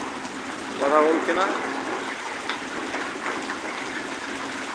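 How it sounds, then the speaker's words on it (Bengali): Heavy rain falls steadily on a concrete rooftop building, a constant broad hiss of downpour, with a voice speaking briefly over it near the start. "আকাশ থেকে প্রচুর পরিমাণ বৃষ্টি হইতেছে"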